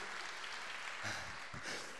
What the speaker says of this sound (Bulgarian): Аплодисменти за Вили.